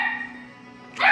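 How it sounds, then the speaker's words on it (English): A dog barks in the background, a single short bark that comes in abruptly at the very end after a sustained tonal sound, fairly loud. "sorry if you guys hear the dog in the background"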